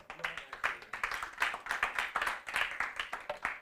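Steady rhythmic clapping from a church congregation, many hands beating together in a quick, even pulse for several seconds, fairly close and lively.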